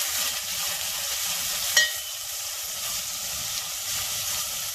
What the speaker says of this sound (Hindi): प्याज को थोड़ी देर हमको भूनना है, 5 मिनट के लिए हमको भूनना है, जब तक ये ट्रांसपेरेंट हो जाए।